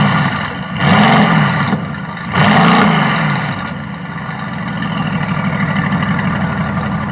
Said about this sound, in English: You can hear the turbos now